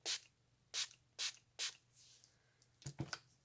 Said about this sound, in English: I'm just going to spray this with some rose water.